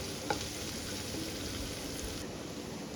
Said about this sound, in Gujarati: આદુ મરચાંની પેસ્ટ, એને ખૂબ સારી રીતે સોતે કરી લઈશું.